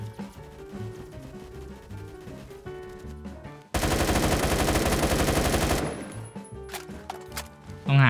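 Rapid, loud pistol fire in the Roblox shooter Phantom Forces, a dense two-second burst of closely spaced shots up front, with scattered game sounds before and after.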